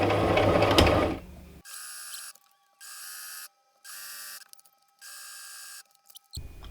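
A sewing machine stitches the facing seam of a dress made from a vintage pattern. It runs in four short, even bursts of fast mechanical whirring, separated by brief pauses, after a louder rustle of fabric handling at the start.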